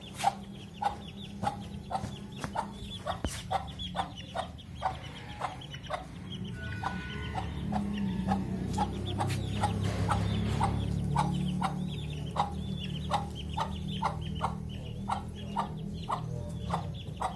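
Chickens cluck and cheep in a rapid, uneven stream of short calls close by, over a low steady rumble of background noise.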